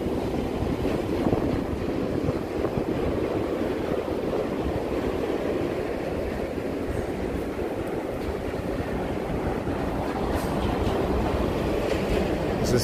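A New York subway train on the 1 line at Franklin Street station fills the downtown platform with a continuous loud rumble and roar for the whole stretch, with faint metallic squeals toward the end.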